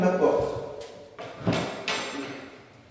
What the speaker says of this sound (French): Je dégonde ma porte.